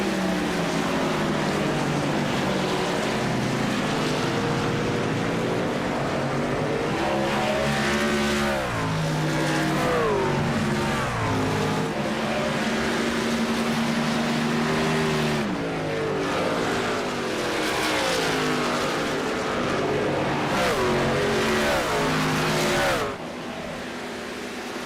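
Race cars in a VSpeed Contender Series oval race roar around the track in a close pack. Engines whine and shift pitch continuously for the whole stretch.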